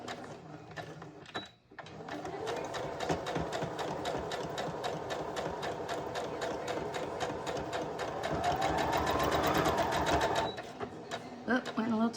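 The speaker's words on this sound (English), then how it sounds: "So I'm just going to do a single stitch right across here." A sewing machine runs a single line of stitching across a handmade journal, a fast steady mechanical chatter that continues close and loud for most of the stretch, with a brief pause near the start and a few clicks at the end.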